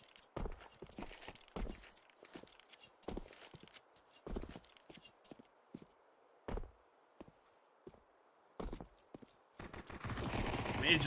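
Glock pistols firing in a Counter-Strike match: sharp, spaced single shots crack out at an irregular pace, some near and some farther off, under quiet game ambience, with a denser clatter toward the end.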